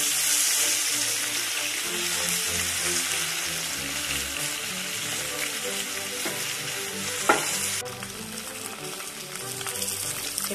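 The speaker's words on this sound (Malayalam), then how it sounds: "ഇപ്പോൾ മീന് നല്ലതുപോലെ ഫ്രൈ ആയിട്ടുണ്ട്." Karimeen fish frying Kerala style in a pan, a loud continuous sizzle and crackle with faint stirring, one sharp knock near the end, no voices.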